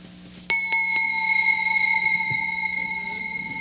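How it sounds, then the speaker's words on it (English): Bells ring out sharply in a quick run of three strikes, followed by a long bright shimmering decay that hangs loud and clear with no talking, within a 1988 youth Christmas musical. "Did you hear those bells?"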